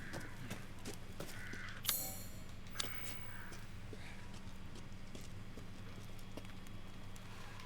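A living horse in the video game Resident Evil Village: steady, soft clip-clop hoofbeats at a moderate distance, over a constant low hum, with crow caws and a couple of sharper clatters around two and three seconds.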